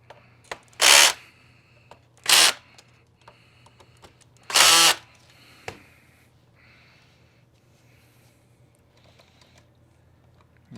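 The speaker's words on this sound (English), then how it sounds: "So we're going to screw this down." A power screwdriver drives screws into a part of a Kirby Sentria vacuum during repair, three loud whirring bursts about a second long each, then softer clicks and taps in a quiet room.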